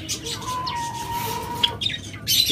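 Java sparrows in a bird-selling setting give short chirps and a thin sustained call, close and moderately loud, over a steady background hum with no talking.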